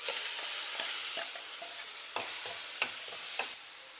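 Mustard seeds, urad dal, dried red chillies and curry leaves sizzle in hot oil for a chana dal chutney tempering, giving a steady high hiss with scattered small pops and crackles, moderately loud and without voices.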